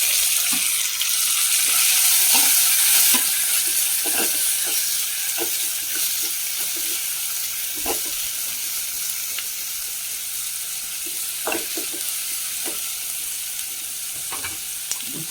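A small onion fries in a hot pan for a leftover noolappam biryani, giving a steady hiss of sizzling oil broken by repeated close scrapes and knocks of stirring, with no talking.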